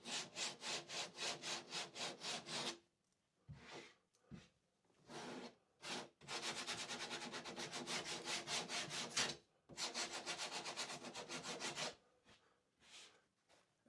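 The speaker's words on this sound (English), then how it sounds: "Just want a bit of sandpaper." Sandpaper rubs by hand across fuzzy, fluffy wood edges in quick rhythmic back-and-forth strokes, close and crisp, coming in several bursts separated by brief pauses.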